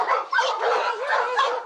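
Dogs on a Korean dog meat farm give a quick run of high yips and whimpering barks, close and fairly loud, with no talking.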